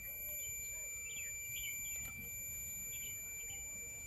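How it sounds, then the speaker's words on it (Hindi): A steady high-pitched multimeter continuity beep runs continuously for several seconds while checking a motorcycle horn switch, with faint handling noise and low rumble underneath. "इसमें बीप का साउंड आ रहा है।"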